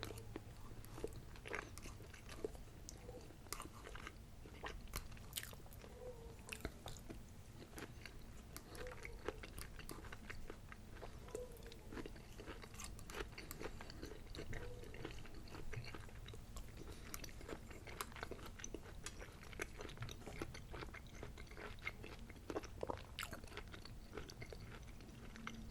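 Boston Market prime rib eaten up close, with quiet repeated bites and moist chewing in an irregular rhythm, soft and intimate with no talking.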